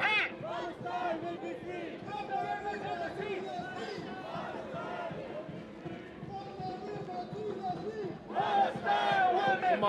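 Massed voices of protesters chant in unison at a Manchester street protest, a dense, close roar of rhythmic shouting that swells louder near the end.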